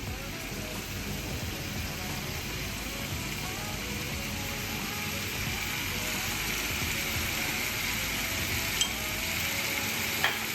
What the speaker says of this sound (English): now I have it on high, and then you see once it starts cooking, you don't want to burn it